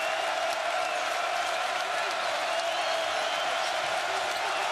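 Basketball arena crowd at a Florida versus Connecticut college game, a steady dense roar of cheering and applause filling the whole stretch without letup, with a commentator's voice talking over it.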